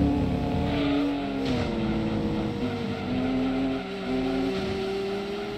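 A Shelby Cobra races at Red Rock Valley in Gran Turismo 2, its engine droning loud and close with a shifting pitch as revs rise and fall through gear changes, with light tire noise underneath and no talk.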